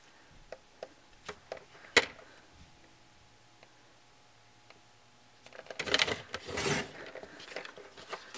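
Patterned craft paper is cut diagonally, several small sharp snips and ticks early on, then a denser rasping burst of cutting and paper handling near the end, close and quiet.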